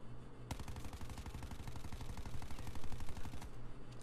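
MX9 submachine gun in Call of Duty: Black Ops 4 fired in one long sustained burst at a range target, a rapid, even stream of sharp cracks lasting about three seconds, loud and close, then stopping abruptly.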